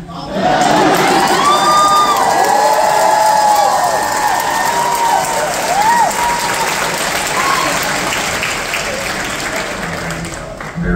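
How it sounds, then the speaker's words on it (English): A large audience at a live drag performance show cheers and applauds loudly and continuously, with whoops and shrill shouts rising above the clapping, fading slightly toward the end. "the crowd is so good"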